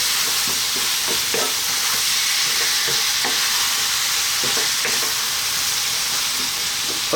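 Fresh chopped tomatoes and chili sizzle loudly in a hot pan for potato curry, with a continuous bright hiss and repeated scraping stirs of a spoon throughout.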